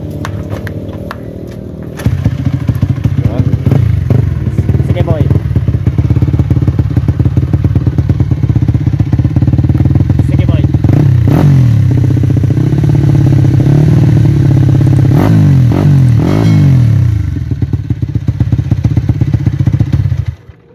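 A motorcycle engine at the Palawan International Circuit during practice starts up, then drones loud and steady close by, with several sharp revs rising and falling in pitch before easing off near the end.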